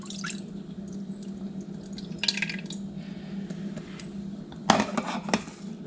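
Fresh-squeezed lemon juice poured into a bowl for a chicken marinade in a home kitchen: close, soft splashing and dripping trickles with a few sharp clinks near the end, over a steady low background hum, with no talking.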